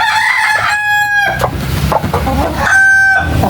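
Pet chickens cluck and squawk up close, with two loud, drawn-out rooster crows breaking through a busy background of fowl noise.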